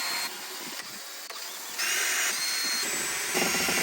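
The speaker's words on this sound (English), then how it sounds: "What I'm going to do now is drill a few holes in the plastic and then put some screws in to hold it in place." A handheld power drill bores holes into plastic, its motor whirring in sustained bursts that change pitch as the bit cuts, close and fairly loud with brief pauses between runs.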